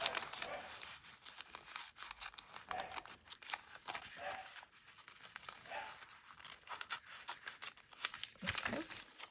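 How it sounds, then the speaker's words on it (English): Scissors snipping through a paper lunch bag, including its bottom gusset, with faint, close crisp cuts and papery rustles in a steady irregular run. "And so then I need to cut that bottom gusset as well."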